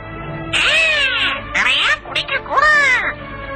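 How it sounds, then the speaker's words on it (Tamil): A parrot gives three loud, harsh squawks in quick succession, close by, with brief gaps between them. "சும்மா இரு பைத்தியக்கார கிளியே"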